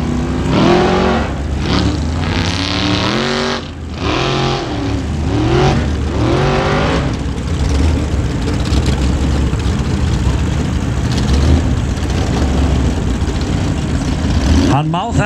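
A formula offroad race car on a dirt track at Hella, Iceland, roars close by, its engine revving hard in rising and falling sweeps before settling into a loud, rough, sustained drone.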